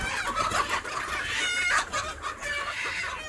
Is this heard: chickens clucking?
yes